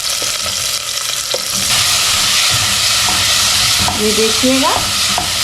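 Lemon pieces fry in mustard oil over high heat with a loud, dense, continuous sizzle and hiss, swelling stronger partway through. Someone speaks briefly over it.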